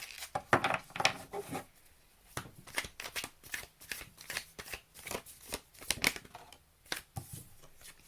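Tarot cards riffled and drawn from the deck at close range, with soft repeated papery flicks and slaps in an uneven rhythm, quiet and without talk.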